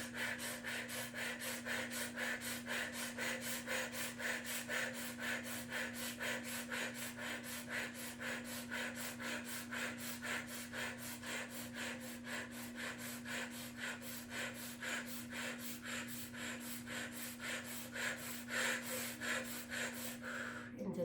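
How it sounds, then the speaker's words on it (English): Deep, rhythmic breathing in and out through the mouth during a guided breathwork exercise, close and steady, each breath a rough airy rush repeating without pause for the whole stretch. "In and out through the mouth with an anchoring breath at the end."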